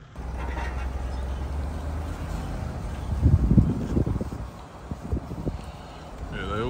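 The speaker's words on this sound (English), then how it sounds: "so you can see how we got the brunt of the wind" Strong wind buffets an exposed beach camp on the Spanish coast, a steady broadband roar on the microphone with gusts swelling in the middle, and voices faintly under it.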